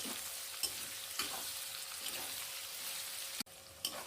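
Sliced onions fry in hot oil with whole garam masala and bay leaves, giving a steady, quiet sizzle broken by occasional spoon scrapes and taps as they are stirred, with no talking.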